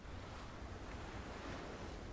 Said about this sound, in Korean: 잔잔한 비진도의 바다를 타임랩스로 보여준다